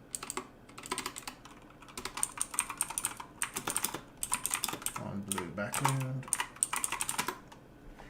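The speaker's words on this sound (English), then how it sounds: "Excuse the typing." Close computer keyboard typing comes in rapid bursts of clicking keystrokes with short pauses, and a person speaks briefly partway through.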